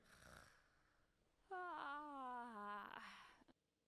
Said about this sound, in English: Oh, somebody's snoring out here.